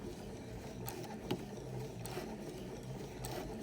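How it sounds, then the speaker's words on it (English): A sewing machine stitches over an elastic ear loop on a pleated fabric mask, a steady close mechanical whir with a repeating needle rhythm and one small click, no talking. "I'm going to sew over this elastic here."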